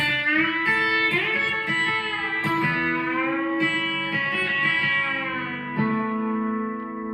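A twangy B-bender electric guitar lick with string bends sliding notes up and down, played continuously with a sustained, slightly effected tone.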